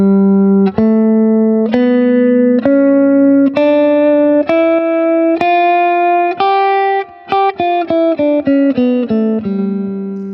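A clean, distorted electric guitar plays a G Lydian dominant scale one note at a time, climbing steadily and then descending in quicker, evenly picked notes.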